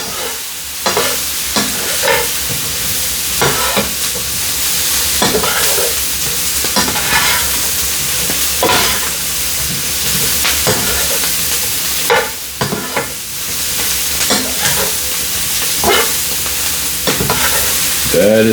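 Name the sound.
Brussels sprouts sizzling and being rolled in grease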